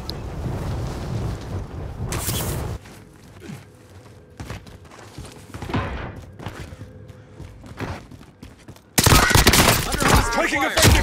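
Bursts of Call of Duty Warzone gunfire, with scattered shots and thuds across a quieter middle stretch, then a loud, dense volley near the end, with game voices heard intermittently.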